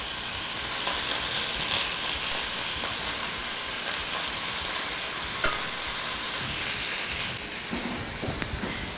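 Quartered mushrooms searing in a hot pan, a steady dense sizzle with faint crackles and occasional scraping as they are turned, no voices.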